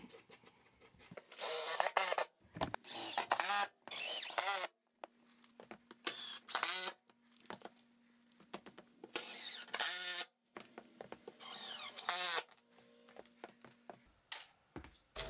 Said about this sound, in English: I'm just screwing everything down, make sure everything's super secure and then straight.